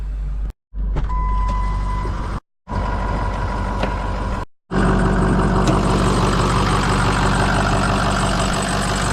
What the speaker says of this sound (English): There she is, all of its glory. Six-liter Powerstroke diesel.